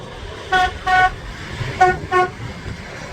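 Train horn at a station on the Tbilisi to Batumi line, sounding four short harmonic toots in two pairs, loud and fairly near over a low rumble of background noise.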